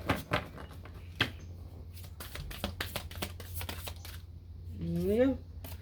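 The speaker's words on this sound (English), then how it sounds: "let's shuffle" Tarot cards are shuffled in a series of sharp, quick riffling taps and snaps, close and fairly quiet, in irregular bursts, followed by a brief vocal sound near the end.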